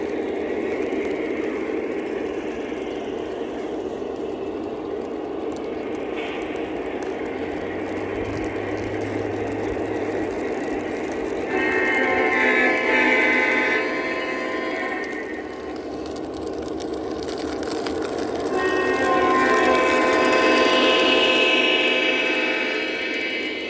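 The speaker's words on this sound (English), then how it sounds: "You can hear the rails have grit all over them." A Lionel CSX model locomotive runs on a garden railway whose rails are coated in grit, giving a steady motor whir and gritty rolling rumble that swells louder twice, with no talk.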